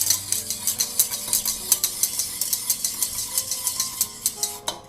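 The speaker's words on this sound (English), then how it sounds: "Let me stir." Onions being stirred in a pan for a tomato pie, a close series of light rhythmic scrapes and clinks of a utensil against metal, repeating steadily with no voices.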